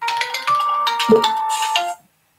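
A phone ringtone plays a bright melodic electronic tune for about two seconds, loud and close, then stops abruptly into silence.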